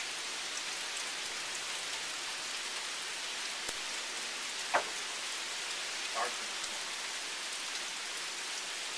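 Rain falls steadily outdoors during Hurricane Irene, a continuous hiss of drops on surfaces with a couple of brief louder knocks partway through and no talking.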